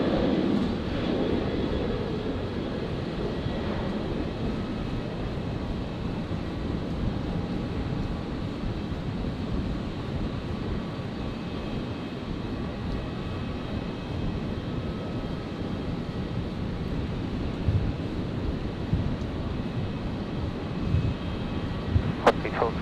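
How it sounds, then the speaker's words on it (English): Virgin flight 1224, an airliner, takes off at Brisbane Airport with a sustained, heavy engine roar that holds steady throughout, while a voice talks intermittently over it. "Virgin 1224, just about to rotate here."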